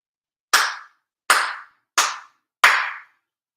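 Four sharp, sincere hand claps at an end-of-year ceremony, evenly spaced with a brief ringing decay after each in a quiet room.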